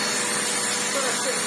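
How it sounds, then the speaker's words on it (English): A Vax Essentials bagless upright vacuum cleaner, restored, runs with its hose drawing suction, giving a steady, loud, unbroken whine and rush of air that holds throughout. "Let's test the hose suction first."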